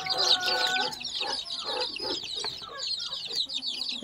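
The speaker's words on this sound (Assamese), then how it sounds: "ইয়াত 22টা পোৱালি আছে" Local chickens and chicks on a small farm keep up close, steady clucking mixed with high, rapid chick peeps in overlapping bursts, fairly soft, without speech.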